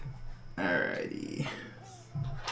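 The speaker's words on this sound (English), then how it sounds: "I have the hiccups." A person with hiccups during a live build of two computers: a few abrupt, throaty vocal jolts spaced about a second apart, close and moderately loud, with no speech.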